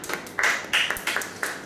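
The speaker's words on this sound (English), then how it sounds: "Clap." Audience in a comedy club in Moscow clapping in brief bursts, several sharp claps close together over less than two seconds, with faint voices underneath.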